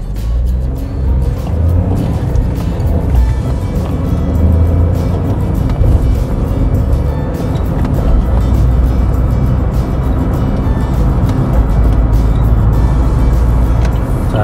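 A manual-transmission petrol car pulls away on throttle alone, without clutch-only creeping; the engine drones steadily and loudly from inside the cabin, with road rumble and no talking.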